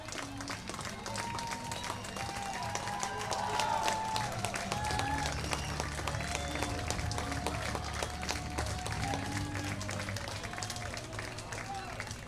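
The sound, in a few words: baseball crowd applauding Marcus Miller as he heads out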